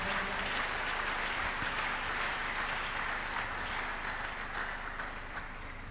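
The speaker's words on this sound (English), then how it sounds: "Let's clap unto God and appreciate him." A church congregation clapping in praise during a Tuesday miracle service, sustained even applause from many hands at moderate distance, gradually easing slightly toward the end with no speech over it.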